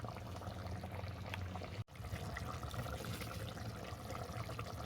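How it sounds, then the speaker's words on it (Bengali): Bengali-style hilsa curry with mustard paste and taro fritters simmering in a pan, a faint continuous bubbling and sizzling with a brief dropout partway through. "এইভাবে দু মিনিট ফুটতে থাক দু মিনিট পর আমি নামিয়ে নেব"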